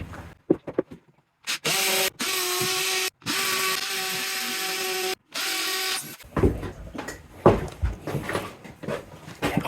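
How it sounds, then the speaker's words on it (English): A hammer drill boring into tile whirs loudly in several bursts of a couple of seconds each, stopping and starting, followed by clattering and handling noises. "now we gotta use the hammer drill"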